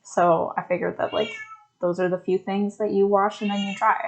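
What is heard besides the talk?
pet cat meowing loudly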